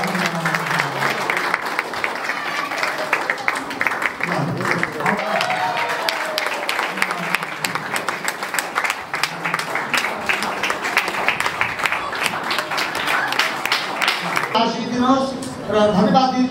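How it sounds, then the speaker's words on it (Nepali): Applause from guests at a Christian engagement ceremony in Nepal, steady clapping running throughout under ongoing talk and chatter, growing louder and more crowded toward the end. "ताली बजाइदिनु"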